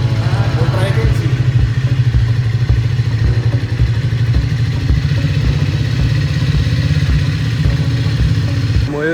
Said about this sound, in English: Mayuresh is taking a test ride of the Triumph Speed T4.